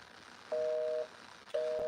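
A telephone busy signal sounds through the handset calling a Public Information Office on Long Island, two clear half-second dual-tone beeps with a half-second gap between them, over faint room noise.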